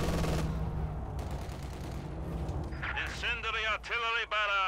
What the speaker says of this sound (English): Incendiary artillery barrage.